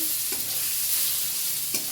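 Diced pointed gourd crackles in hot oil with a steady close sizzle, and two soft stirring knocks come through the hiss.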